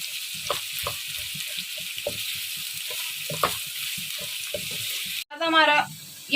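Onions frying to light golden for Peshawari namkeen gosht (mutton), crackling and popping in a steady sizzle with scattered stirring clicks, then a brief burst of running water near the end.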